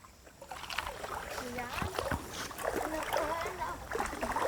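Boys wade through a forest stream in the Konkan, with irregular splashing and sloshing of water close by while their voices chatter over it.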